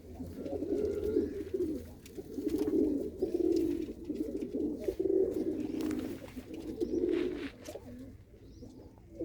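A female pigeon coos close by in repeated soft, low, throaty phrases, rising and falling in a steady rhythm with brief pauses between calls.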